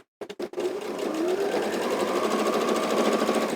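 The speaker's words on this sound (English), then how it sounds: "I just love the ease of use of the sewing machine." A sewing machine stitches through fabric, starting with a few quick taps and then running in a steady, close mechanical whirr with rhythmic needle chatter.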